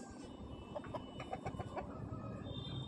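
A two-year-old rooster of about 3.5 kg clucks in a short series of soft, quick notes at a fowl sale, faint and somewhat distant against low background noise.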